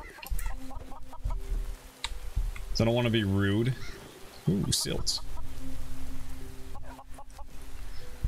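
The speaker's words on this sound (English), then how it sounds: "Trying hard not to hit a chicken or something." Chicken clucking in the video game DawnCraft, a short burst of rising, stuttering clucks in the middle, surrounded by keyboard tapping and someone speaking briefly.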